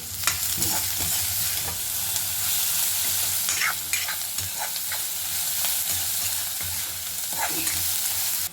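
Crushed garlic frying with neem flowers in a pan of oil, a loud, continuous crackling sizzle with occasional clanking, scraping stirs, heard close with no talking.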